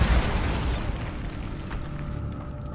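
A Bombarda explosion spell goes off in Hogwarts Legacy, a loud booming blast with a crackling high burst at the start, settling into a sustained low rumble that holds for a few seconds without speech.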